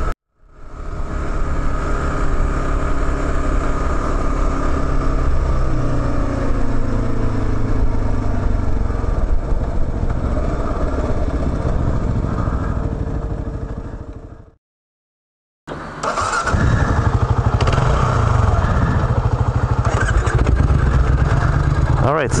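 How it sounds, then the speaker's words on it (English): A fuel-injected Triumph Scrambler motorcycle engine and exhaust run with a loud, steady rumble on a fire road. The sound cuts out briefly, then returns, with talk mixed in. "You can hear the exhaust right off the bat."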